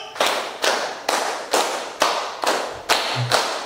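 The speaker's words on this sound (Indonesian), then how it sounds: "Tepuk 2 kali." A classroom of students claps together in a steady, even rhythm, about eight sharp, close claps with no talking.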